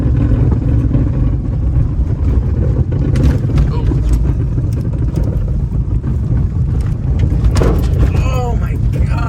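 A homemade turbo Subaru engine rumbles loudly and continuously while it drives down a rough jeep trail, with clunking from the rear and people talking over the noise.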